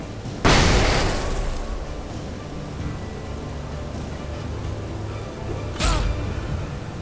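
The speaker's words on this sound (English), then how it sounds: "Flashbangs." Two flashbang blasts in Alan Wake Remastered: a loud, sharp burst near the start with a long ringing decay, then a second, quieter pop a few seconds later over a steady rumbling background.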